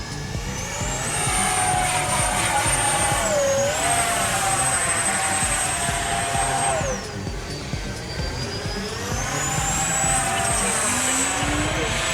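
FMS Rafale 80mm electric ducted-fan RC jet flying aerobatics, a loud continuous whine rising and falling in pitch as it swoops past, with a brief dip midway, steady and close throughout.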